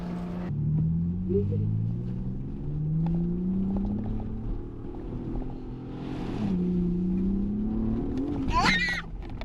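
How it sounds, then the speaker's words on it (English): A 2023 Ford Bronco Raptor engine revs hard off-road, a loud, close, rising and falling drone that surges near the end, with brief voices over it. "Keep pointed at, just give it some gas"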